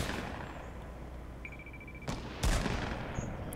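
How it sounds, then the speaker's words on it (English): Sniper rifle fire in the video game Fortnite: two sharp distant cracks in quick succession over a steady background hiss, no talk. "Sniper fire somewhere."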